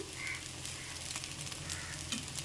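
Cumin seeds sizzle in hot oil over chopped ginger and green chillies, a steady close crackling hiss with scattered pops running unbroken for a couple of seconds, no voices.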